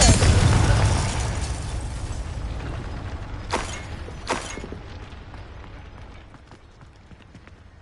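A Confringo spell blast in Hogwarts Legacy booms loudly and decays in a long rumbling tail, followed by two sharp cracks amid ongoing game battle noise.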